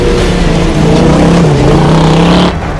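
A 1973 Hornet dirt car drives loud and close over bumpy ground, its engine droning steadily with rising and falling pitch, then the sound drops away abruptly near the end.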